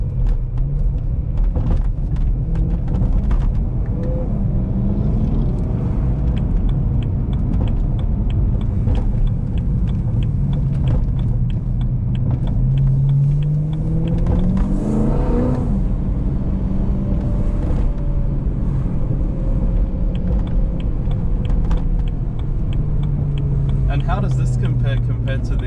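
A BMW straight-six twin-turbo N54 engine rumbles steadily and rises and falls as it revs while the car drives, loud and close, with people talking over it throughout.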